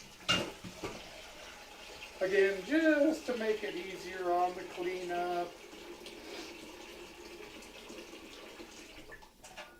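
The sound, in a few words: water running from a tap into a pan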